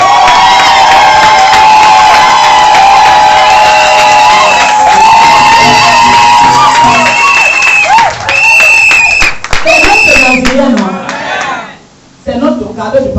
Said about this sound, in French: Applaudissez pour le cadeau.